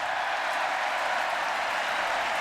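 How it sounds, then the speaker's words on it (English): A Fenway Park baseball crowd in right field during an Angels versus Red Sox game gives a mock raspberry cheer, a steady broad roar of applause and voices held at the same level throughout, with no single voice standing out. "A bit of a raspberry cheer out there in right field from the Fenway faithful"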